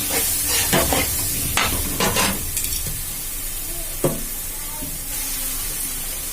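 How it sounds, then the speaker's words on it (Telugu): Snacks dip-coated and dropped into hot oil crackle with a steady broadband sizzle as they deep fry, while a utensil stirs them in scattered scraping knocks, close and fairly loud throughout. "పొడిగా డీప్ ఫ్రై అయ్యేటట్టు చూసుకోండి. మధ్యలో కలుపుకోండి."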